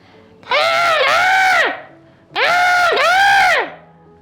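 A man imitates a crow with two long, loud, nasal caws, close up, separated by a short pause.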